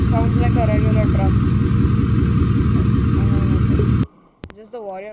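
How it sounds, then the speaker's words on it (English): A truck engine in the video game Driving Empire idles and runs with a steady low rumble for about four seconds under someone talking, then cuts off as his speech continues alone. "when you drive it, it sounds like a regular truck."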